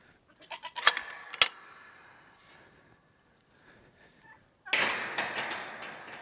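Royal Palm heritage breed turkeys gobble close by on a farm: a few sharp separate calls early on, then after a quiet stretch a loud, rattling burst of gobbling that carries on to the end.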